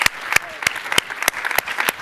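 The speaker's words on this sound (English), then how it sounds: "Round of applause for them. They were awesome." Conference session audience claps for two news speakers, a sparse, fairly close round of distinct individual claps at an uneven rhythm, about eight strong hits over two seconds, with no voices.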